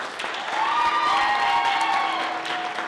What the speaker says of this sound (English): Let's give this young man a hand clap.